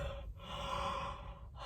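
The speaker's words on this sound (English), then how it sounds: "I should not be yawning." A single human yawn, a long breathy inhale swelling into a drawn-out airy exhale, close and fairly quiet, with brief breath breaks at the start and end.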